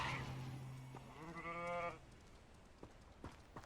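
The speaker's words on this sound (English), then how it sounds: "Sheep. Little friends." A sheep in the Hogwarts Legacy video game gives one wavering bleat that lasts under a second, close and clear after a brief low tone, followed by faint scattered clicks.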